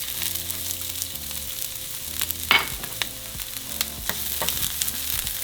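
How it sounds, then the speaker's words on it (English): Onions frying in a pan for red chilaquiles, a steady sizzle with scraping stir strokes and a louder clatter midway, close and with no voices. "now we're going to fry our onions"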